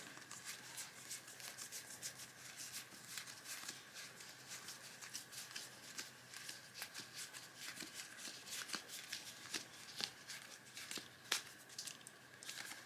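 Cards from the Food Chain Magnate board game are handled and shuffled during an unboxing, giving a steady, close patter of riffling and sliding card sounds with faint rubbing, alone and without talk.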